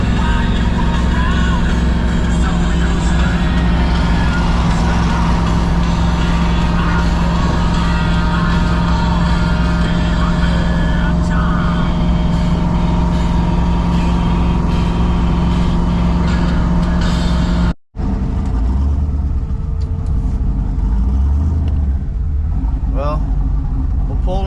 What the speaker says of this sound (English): Stop and go traffic as usual, a lot of cars, and we were just barely moving.